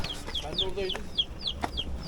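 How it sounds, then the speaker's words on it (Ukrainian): Small chicks cheep and cluck in a quick, repeated series of high chirps, close by, over a faint background murmur, near Cleopatra Beach on the Lycian Way in Turkey. "Курчатка."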